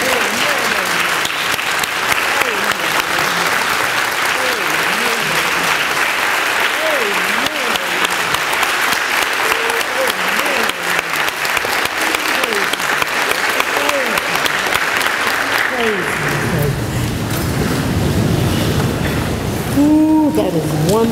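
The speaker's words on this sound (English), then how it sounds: "Let's give her another round of applause for that wonderful, wonderful words." Sustained applause from a congregation at a Founders' Day church gathering, a loud, dense wash of clapping that continues for a long stretch, then drops away with voices and music emerging near the end.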